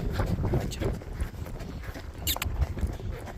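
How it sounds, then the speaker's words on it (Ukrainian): A horse trots along an uneven, bumpy road, its hooves thudding in a quick irregular rhythm close by, with a rider's voice talking over the steps. "Їдемо рисю."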